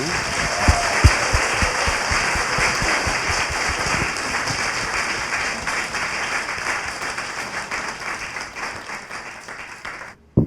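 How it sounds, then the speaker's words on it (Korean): An audience at a Korean talk-show taping breaks into a long burst of applause, loud and dense at first and slowly tapering over about ten seconds before stopping abruptly. "박수 한번 주세요"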